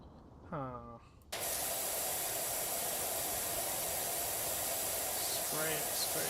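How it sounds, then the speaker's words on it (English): A pressure washer in the video game PowerWash Simulator 2 sprays a loud, steady hiss that runs without a break for several seconds. A short voiced sound comes before the spray, and another faint one is heard near the end. "Spray it, spray it, spray it."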